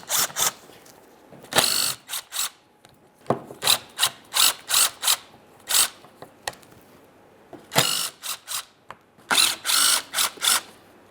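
Ratchet removing 10mm mounting bolts from an engine-bay shield panel on a 2013-2020 Ford Fusion 2.0L, several close bursts of rapid clicking, each a second or so long, with pauses between.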